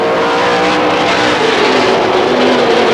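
Pro stock race cars roar around Star Speedway in a 1994 feature race, a dense, loud, continuous engine drone from several cars close together, no voices.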